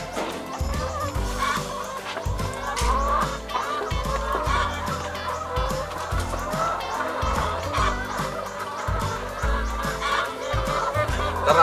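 Free-range chickens cluck and chatter continuously in a dense, lively flock, close and loud, with overlapping calls and a steady background bustle.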